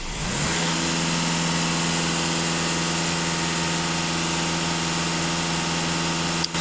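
A Skoda Octavia A7 4x4, after an emissions-system cleaning, catches within the first half second and then holds a steady, raised engine hum with a constant tone, close and loud, with no talking.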